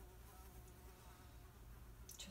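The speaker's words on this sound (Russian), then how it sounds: "Муха, блин, залетела." A housefly buzzes indoors, a thin continuous drone that wavers slightly as it moves about, faint and alone with no talk.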